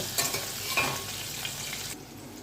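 Potatoes fry with whole cumin seeds in a pan for a paneer curry, giving a close, steady sizzle with a couple of stirring swells early on that eases off near the end; no one speaks.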